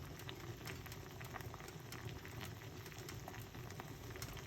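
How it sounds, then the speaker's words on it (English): Onion tea boiling in a pot, a steady low bubbling and fizzing at soft volume, continuous and even with no voices. "So you see, make it boil up a little bit."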